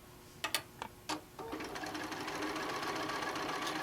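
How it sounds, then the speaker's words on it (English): A few hesitant clicks and short bursts give way to a sewing machine running steadily, its fast, even stitching whir close and continuous as it sews a rod pocket onto the back of a quilt panel. "I am sewing the rod pocket to the back of the panel."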